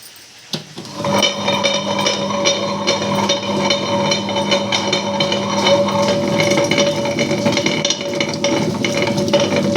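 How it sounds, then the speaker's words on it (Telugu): A wet grinder grinding tamarind for a chutney, starting after a brief pause and then running in a loud, steady whine with a constant hum, close by. "ఇప్పుడు చింతపండు మనం గ్రైండర్ వేసుకుందాం."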